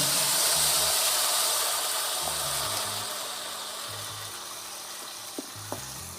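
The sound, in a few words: onion paste frying in oil for goat mutton curry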